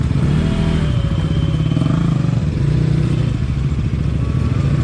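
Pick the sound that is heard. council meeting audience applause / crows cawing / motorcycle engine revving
motorcycle engine revving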